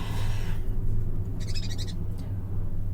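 Birds calling outdoors, one repeated hooting, owl-like call standing out mid-clip over steady low background hum, with no talking.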